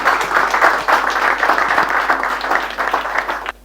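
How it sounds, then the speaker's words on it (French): An audience applauds a speaker at a business communication training event, with steady, dense clapping that holds loud and continuous before cutting off sharply at the end. "Applaudissements pour monsieur Traoré."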